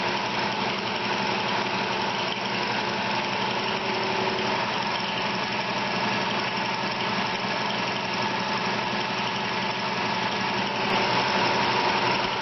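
The motor of a homemade bandsaw mill runs at a steady idle, a continuous close engine drone with even vibration throughout and no pauses.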